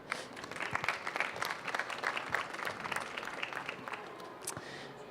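An audience applauds at a French-language round-table event on learning by doing, steady dense clapping filling the room throughout without a break.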